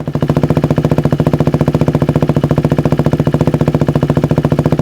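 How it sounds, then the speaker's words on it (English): A loud Husqvarna Vitpilen 401 motorcycle idles with a full Competition Werkes exhaust, cat delete and mid pipe, a steady, deep, rapid exhaust pulse, close up and unbroken throughout. "let's go ahead and start her up and see what she sounds like with the full exhaust system"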